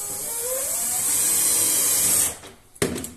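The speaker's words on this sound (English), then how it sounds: "I would advise drilling a pilot hole first." A power drill whirs steadily while boring a 35mm hole through a wooden beehive, the high motor whine running for about two seconds before winding down, followed by a short knock.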